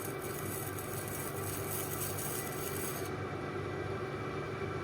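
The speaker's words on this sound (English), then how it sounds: "to deburr it, I'm just gonna feel for burrs, and I'm gonna spin it away from the ring" Metal piston ring ends for a 408 Mopar stroker engine are filed to remove burrs, giving a faint, steady rasping rub close by with no talk.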